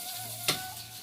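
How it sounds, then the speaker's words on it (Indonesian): Food sizzles faintly in hot oil in an Indonesian home kitchen while chicken serundeng and tofu are prepared, with one short sharp burst of crackle in the middle. "Terus kita lagi mau goreng."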